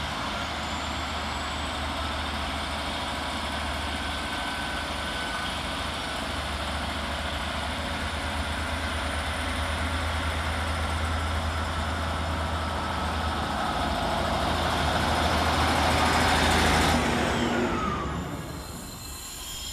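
Transport for Wales class 153 diesel railcar 153921 departing Cardiff Queen Street station, a loud continuous engine drone with rail hiss and faint wheel squeal that builds, then fades as the train pulls away, with no voices.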